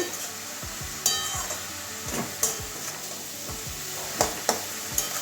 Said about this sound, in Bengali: এভাবে পেঁপে মশলার সঙ্গে ভালো করে মিশিয়ে নেব